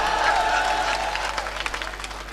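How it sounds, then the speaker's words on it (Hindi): An audience applauds at a Hindi poetry gathering, an all-India kavi sammelan held in 2016. The clapping is a dense, crowd-wide wash that carries through the moment, with sharper individual claps standing out toward the end. "ऐसे नहीं, ताली बजा लो एक बार आप।"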